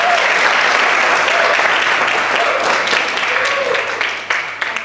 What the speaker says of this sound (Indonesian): Beri aplaus untuk Bapak.